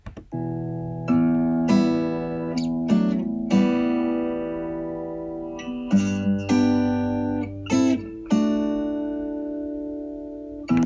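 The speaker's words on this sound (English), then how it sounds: "the guitar is more of an accompanimental role. So it's chords, but still there's some motion." Sustained guitar chords strummed and held, ringing out with a few moving notes between changes, no voices.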